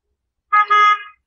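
A car horn sounds in two quick blasts close together, the second held slightly longer, against otherwise silent surroundings.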